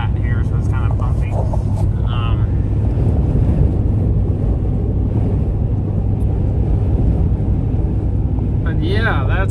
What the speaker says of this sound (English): Oh, there's a big wind gust right there.